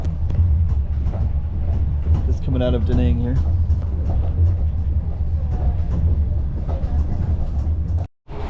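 The Heritage Train rumbles steadily on its run from Da Nang to Hue in Vietnam, a low continuous rolling drone with faint rhythmic clatter as someone talks over it close by.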